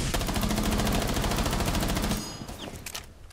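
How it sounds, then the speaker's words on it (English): A gun fires in a video game as a rapid, loud burst of shots for about two seconds, then cuts off, leaving a short ringing tail and quieter background. "I'm tap firing, don't run into it."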